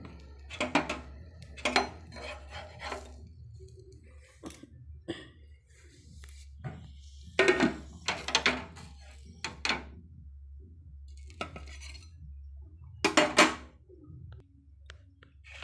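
Metal spatula scraping and tapping on a dosa pan as a folded masala dosa is lifted off, with several sharp clinks and scrapes spread out over a quiet kitchen hum.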